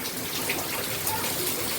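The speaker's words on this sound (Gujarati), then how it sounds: "અત્યારે છે ને વરસાદ ફૂલ ચાલુ છે" Heavy rain pours down steadily outdoors in a dense, close, continuous wash of water noise with no voices.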